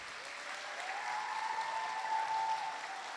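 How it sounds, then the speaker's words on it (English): Steady applause from a school audience at a Veterans Day ceremony honoring veterans, even and sustained throughout with a faint tonal hum running beneath. "Can we give them one more round of applause?"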